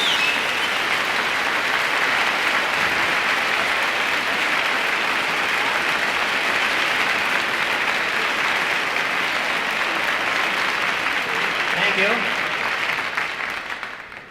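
Sustained audience applause fills the whole stretch from a vinyl recording of a campus concert, a dense steady clatter of many hands that stays loud and even before tapering at the very end.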